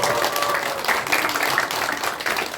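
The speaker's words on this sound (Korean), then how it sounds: "한번 박수 한번 쳐주세요." Church congregation applauding during a testimony worship service, a dense continuous wash of clapping at steady moderate loudness throughout.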